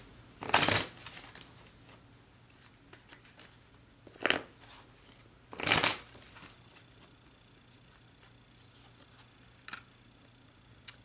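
Tarot cards being shuffled in short riffling bursts, three distinct rustling bursts close by in an otherwise quiet room, with faint ticks in between.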